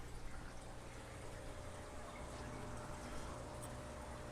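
Fresh water running out in a slow, steady flow while setting up a saltwater aquarium, a faint continuous trickle and hiss with no talking.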